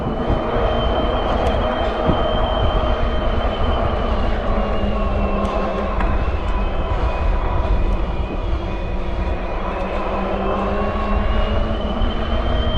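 Heybike Alpha mid-drive fat-tire e-bike motor running steadily, a continuous whine with a slightly high pitch over broad rolling noise, close and moderately loud, with no speech.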